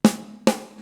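Two crisp hits on the dead center of a Yamaha DTXpress IV electronic snare pad about half a second apart, each with a sharp attack and a short ringing tail, close and alone.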